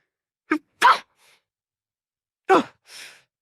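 A single sharp sneeze with a short inhale before it, followed after a pause by another sneeze and a breathy exhale, nearby in silence.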